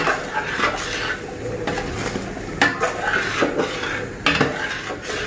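A spoon scrapes and clanks in a metal pot while turmeric and spices are stirred in, with uneven bursts of clatter and a faint sizzle beneath, close and with no one talking.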